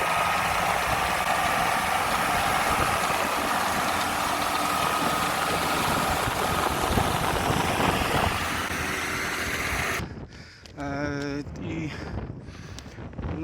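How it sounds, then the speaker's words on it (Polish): A seaweed-collecting excavator's engine drones in a steady, loud mechanical rumble for about ten seconds in the Dominican Republic, then cuts off abruptly, leaving quieter ambient sound with a brief voice. "Mają tutaj specjalne takie właśnie koparki, takie zbierarki do tych traw."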